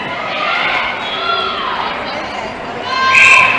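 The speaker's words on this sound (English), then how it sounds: "won't be able to hear us at home now because of the crowd." Loud crowd noise fills an indoor netball arena during a Masters Tri-Nations match in South Africa, a steady roar of chatter that swells into cheering near the end, with voices talking over it.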